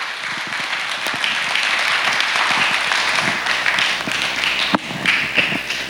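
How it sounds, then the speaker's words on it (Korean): Audience applauding at a Korean church-style concert or talk show, a dense, steady wash of clapping from a sizeable crowd that holds loud throughout, with a few sharper individual claps standing out near the end. "큰 박수 가져주십시오."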